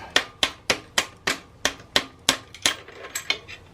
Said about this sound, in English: Just push it out with the wrench or something.